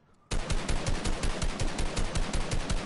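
Rapid automatic gunfire from a video game, a dense burst of evenly spaced shots after a brief quiet start, loud and close.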